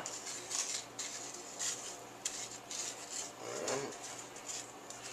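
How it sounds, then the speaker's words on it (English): Egg-coated meatballs rolled around in breadcrumbs, giving a faint, continuous gritty rustle with soft scraping bursts, quiet and close, for deep frying. "let's get a nice light coating of breadcrumbs on it"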